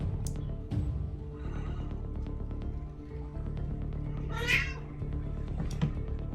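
A cat meows once in a drawn-out, rising-and-falling cry midway through, close and clear above a steady low hum and scattered faint knocks.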